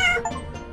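Cartoonish cat meows from the puzzle game 100 Asian Cats, a quick bright mew followed by softer repeated calls over faint background game music, close and moderately loud.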